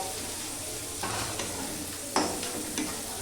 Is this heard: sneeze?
no